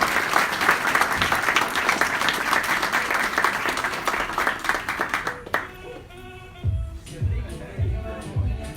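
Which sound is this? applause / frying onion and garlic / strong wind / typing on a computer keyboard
applause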